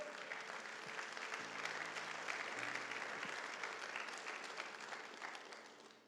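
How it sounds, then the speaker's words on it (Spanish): Church congregation applauding during a sermon, a steady broadband wash of many hands clapping at moderate distance, sustained throughout with a faint low hum underneath. "démosle un aplauso a Él"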